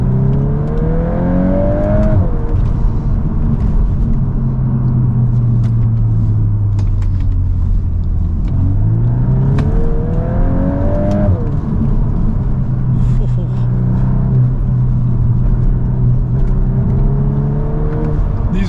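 Engine of a VW Golf R Mk8 heard from inside the cabin, with artificially enhanced engine sound, driving on uneven wet roads. Steady droning rumble with repeated rising revs and gear changes, loud and continuous, no talking.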